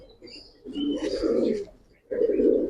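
Old-breed Giribaz pigeons in a loft coo in two soft, rolling phrases close by, separated by a brief gap.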